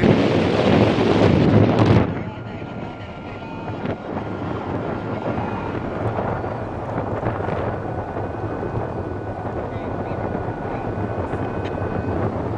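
Strong wind buffets the microphone with heavy, loud gusts for the first two seconds, then settles into a steady blustery rumble with faint whistling.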